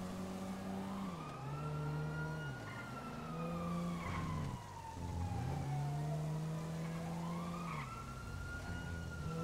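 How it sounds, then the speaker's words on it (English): Police car sirens in the video game GTA, wailing tones sweeping up and down in slow repeating cycles over engine noise, fairly close and continuous with no talking. "Go to the sirens."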